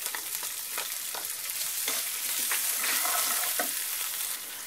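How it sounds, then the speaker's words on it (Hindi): Finely chopped onion frying in hot oil with mustard seeds for a beans poriyal, a loud continuous sizzle with crackling pops and stirring scrapes close by, no talking. "नेक्स्ट मैं इसमें एक छोटे साइज की बारीक कटी हुई प्याज भी डाल देती हूँ।"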